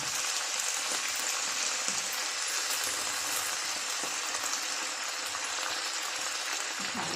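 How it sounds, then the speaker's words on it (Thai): Pork sizzles in a hot pan, a steady bright hiss of frying that carries on without a break, with faint stirring ticks underneath. "ค่ะเอาเนื้อหมูลงไปก่อนนะคะ"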